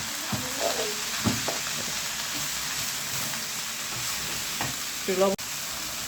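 Shrimp and red amaranth greens are stirred together as they fry in a pan, giving a soft, constant sizzle with occasional utensil scrapes and a sharper clink near the end, close and without speech.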